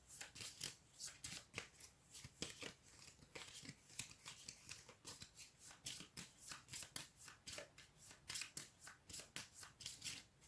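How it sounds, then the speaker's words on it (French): A deck of cards is shuffled by hand in repeated quick bursts of crisp riffling and flicking, close and fairly quiet, the bursts recurring in a loose rhythm without speech. "on mélange le paquet"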